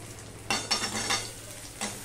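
Papaya and potato pieces are tipped into a pan of browned frying onions for a singi fish curry, giving a few short bursts of sizzling and stirring over a soft background hiss.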